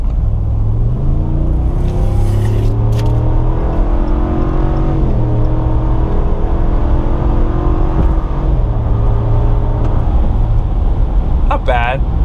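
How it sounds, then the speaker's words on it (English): A 2021 RAM 1500 pickup engine revs hard and climbs through several gears, rising pitch dropping at each shift, loud and close from inside the cab. "we're gonna go ahead and do a acceleration test"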